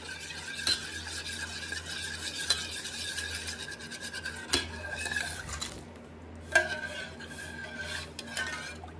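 A spoon stirs Jell-O, dissolving it in juice in a bowl, giving a steady scraping swirl with a few sharper clinks against the side over nine seconds, close and clear with no talking.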